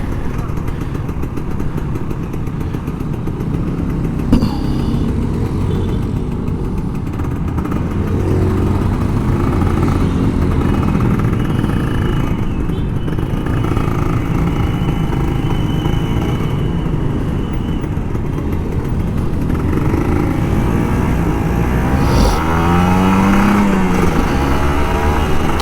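Steady, loud engine drone and road rumble from a Kawasaki Ninja RR 150 motorcycle being ridden, continuous throughout with wind noise, and someone talking over it.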